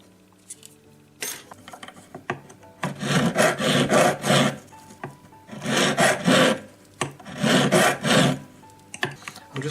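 Hand file rasping the outside edge of a jewellery split ring to give it a slight D-shaped profile, three bursts of rapid back-and-forth strokes, close and loud, with short pauses between.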